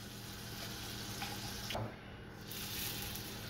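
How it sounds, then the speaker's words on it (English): Potatoes hit a hot pan of butter with a small drop of oil and sizzle steadily in a loud, continuous hiss that dips briefly partway through before rising again. "You want to hear that nice sizzling sound as soon as you put them in the pan."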